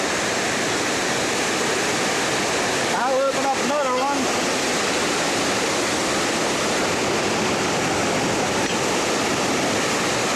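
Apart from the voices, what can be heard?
water rushing into canal lock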